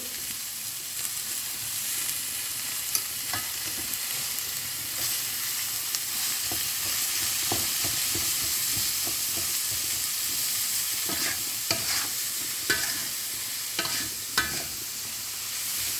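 Leeks stir-fry in a pan, giving a steady close sizzle with repeated scraping and stirring clicks throughout, no voices.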